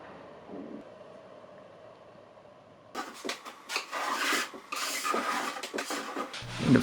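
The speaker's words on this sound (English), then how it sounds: "use mineral spirits and some steel wool and just rub off all the sticky residue" Steel wool soaked in mineral spirits scrubbed over a stripped raw-wood dresser top, a quiet hum giving way to close, rough rasping strokes in uneven bursts, loud and alone.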